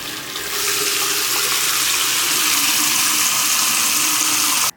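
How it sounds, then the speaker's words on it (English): Water gushes from a newly installed black bath faucet, a loud, steady, close rush of flow that starts strongly and runs unbroken until an abrupt cutoff at the end, with no talking. "And check out this impressive water pressure."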